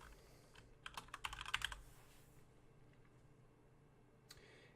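A quick burst of typing on a computer keyboard entering a search into an employee records grid, close and soft clicks clustered for about a second, then near silence with a few faint taps.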